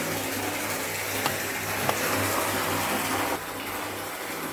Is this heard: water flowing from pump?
yes